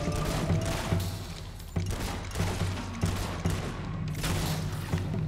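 Pistol shots crack in the Fable 2 Colosseum finale, several distinct sharp reports spread unevenly across a busy, rumbling combat backdrop with no talking.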